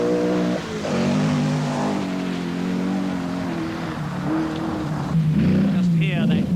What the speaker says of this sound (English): Just hear that distinctive, throaty roar of the Rover engine as Sullivan, enjoying the drier conditions.